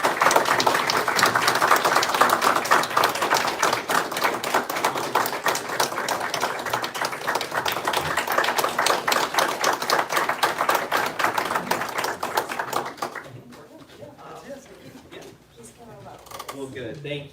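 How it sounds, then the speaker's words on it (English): A city council meeting audience claps in dense, continuous applause for about thirteen seconds, then it fades into a few scattered claps and quieter room sound. "If you could give him a round of applause, please."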